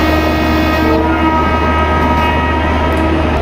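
Indian Railways Garib Rath Express hauled by a WAP-7 electric locomotive in WCR Train Simulator 2022, pulling away with a steady loud electric hum and rail rumble, a sustained continuous drone without talk.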